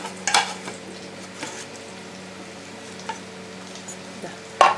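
Irani pola frying in a pan, a soft steady sizzle running throughout with occasional clinks of a utensil against the cookware.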